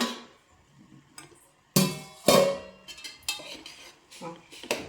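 A lid comes off a cooking pot of boiled jackfruit with several close, sharp metallic clanks and scrapes separated by short quiet gaps, the loudest knocks falling near the middle.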